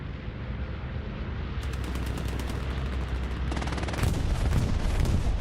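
Explosions and gunfire rumble from an Axis bombing run in a large-scale World War II multiplayer battle game, with a low sustained roar and a cluster of sharper bursts building louder toward the end.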